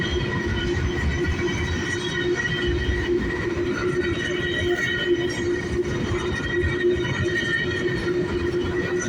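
A long Buffalo and Pittsburgh freight train of tanker, gravel and nozzle cars rolls steadily past near Punxsutawney, Pennsylvania, with a loud continuous rumble, a sustained engine drone and faint wheel squeal throughout.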